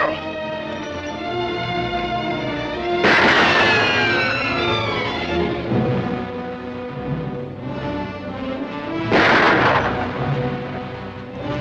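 Gunfire in a 1946 western film, two loud sharp blasts a few seconds apart standing out over a dense orchestral score, with a voice heard briefly.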